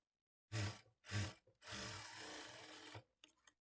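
A sewing machine stitching blouse lining cloth: two short whirring bursts, then a longer steady run of rapid needle clatter lasting over a second, followed by faint handling rattles.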